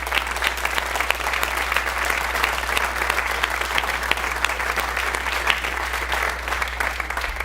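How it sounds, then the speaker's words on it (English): Audience applause at a Washburn bass presentation, a steady dense clapping from a crowd that holds evenly at moderate loudness throughout, with no speech on top. "Please give them a hand."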